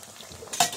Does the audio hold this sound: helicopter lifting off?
no